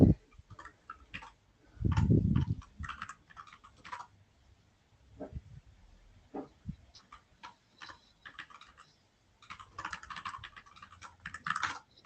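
Computer keyboard typing during an online technical meeting, with quick irregular bursts of close key clicks, a short thud near the start and a denser flurry of tapping toward the end.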